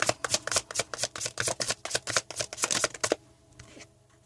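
Tarot cards being shuffled for a pick-a-card reading: a quick run of crisp riffling flicks lasts about three seconds, then softer handling noises as the deck settles, close up with no talk.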